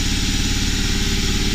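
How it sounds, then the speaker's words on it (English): A newly wired air compressor running through its break-in, a loud, steady mechanical drone with a fast, even pulsing throb that holds constant throughout, with no voices. "I just hooked up and wired this compressor, so I'm breaking it in right now."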